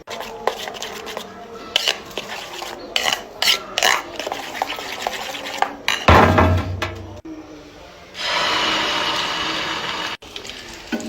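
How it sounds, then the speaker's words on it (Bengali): A wok being set on a home kitchen stove before frying duck eggs: scattered metallic clinks and scrapes of cookware, a louder clattering thump midway, then a steady hiss of heat. "কড়াইটা বসিয়ে দিলাম"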